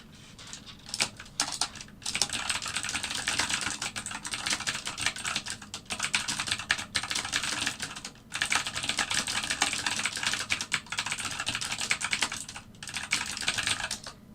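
Rapid, close typing on a computer keyboard clatters in dense, continuous bursts, broken by a few brief pauses.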